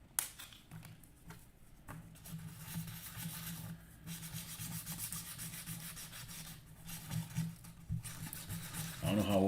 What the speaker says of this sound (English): old ass sandpaper